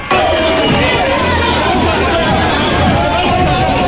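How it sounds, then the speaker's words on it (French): A jubilant crowd at Ahmed Sékou Touré international airport welcomes a singer with a loud, dense babble of chatter, shouts and cheering that fills the whole stretch close by. "une foule en liesse lui a réservé un accueil digne d'une grande star"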